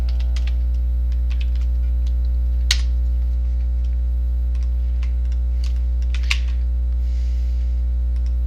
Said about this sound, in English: You'll notice that I'm typing equations in here.